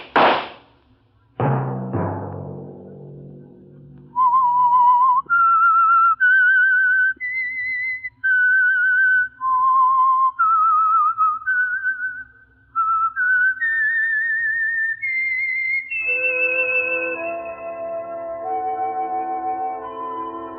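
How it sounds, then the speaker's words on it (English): A lone whistler performs a slow, eerie melody of sustained pure notes stepping up and down, ending on a long held high tone, the radio mystery program's signature theme, clear and close after a brief opening thump. "Let that whistle be your signal for the Signal Oil program, The Whistler"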